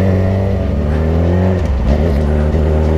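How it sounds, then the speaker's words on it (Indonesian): Yamaha R6 motorcycle engine revving loudly nearby, a sustained high-pitched buzzing drone with a brief dip and rise in revs, no talking. "kebayang ya gimana rasanya Rizky waktu kita geber pakai motor yang paling dia suka"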